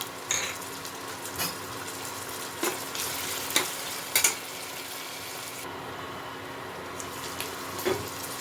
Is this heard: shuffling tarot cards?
no